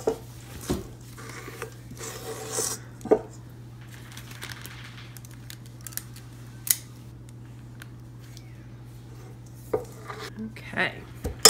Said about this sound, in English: I'm actually using a cookie scoop for this because that way it's easy to